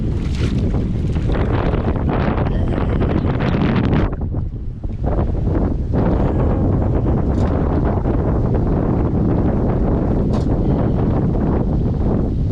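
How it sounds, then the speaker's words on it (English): Heavy wind buffets the microphone of someone standing a foot deep in water while metal detecting, a loud, continuous roar with gusty rumbling and a brief lull partway through before the blustering resumes. "And this wind sure is kicking."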